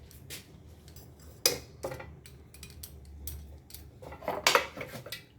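A metal lid settles onto a biryani cooking pot with several sharp clanks and clinks, close and fairly loud, separated by quieter scraping and handling.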